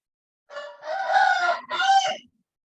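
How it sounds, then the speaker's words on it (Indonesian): A Bangkok rooster crows loudly in one long harmonic call that breaks briefly near its end before finishing. No talk is heard under it. "Yang dari tadi mewarnai Zoom kita ini ayam Bangkok ini."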